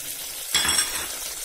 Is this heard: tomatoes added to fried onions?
yes